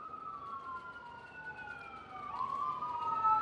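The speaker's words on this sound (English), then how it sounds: "That's the ambulance." A wailing ambulance siren sweeps up and down, growing louder as it approaches, over low traffic rumble.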